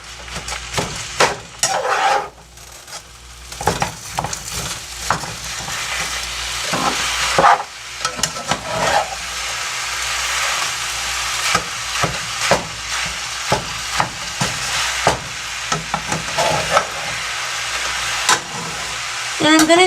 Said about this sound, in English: Now that you hear I'm sizzling, that's how you know it's sauteing.